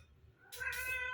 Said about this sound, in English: and yes, that's my cat Puss in Boots, who's meowing away to come in.